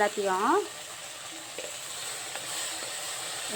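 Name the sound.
onions and banana flower frying in clay pot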